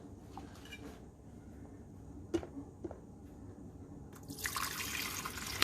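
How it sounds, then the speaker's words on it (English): Water is poured into the reservoir of a Black + Decker 12-cup programmable coffee maker, starting with a few faint drips and then turning into a steady splashing stream near the end. "And now we're going to pour it into the back."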